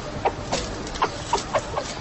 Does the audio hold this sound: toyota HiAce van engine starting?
no